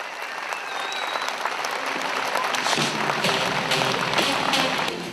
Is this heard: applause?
yes